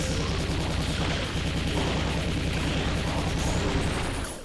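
Quake-style retro shooter gameplay with the double-barrelled shotgun, a dense continuous roar of blasts and explosions filling the whole span, loud and close, no talk.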